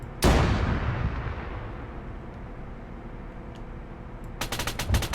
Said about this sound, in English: It's got its coaxial machine gun, and then it's got its primary 125mm cannon.